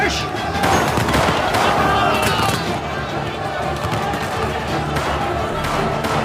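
Rapid gunfire and volleys ring out in a dramatic film scene, dense and continuous over a steady wash of crowd noise, with voices mixed into the clamor throughout.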